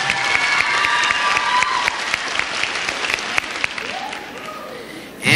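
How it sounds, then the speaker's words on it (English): A crowd in a gym applauds and cheers at a cheer competition awards ceremony, a dense wash of clapping with shouts that fades slightly before a fresh burst at the end, and an announcer's voice heard under the noise. "And a round of applause for the 8th place in small team cheer."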